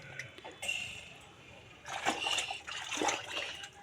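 Water splashes and sloshes close by in uneven bursts, with a soft voice briefly heard underneath.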